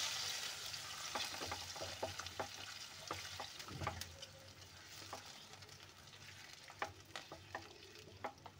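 Mustard greens being stirred and mixed in a pan with a spoon, a close, faint sizzle with repeated scraping strokes and light knocks against the pan over several seconds.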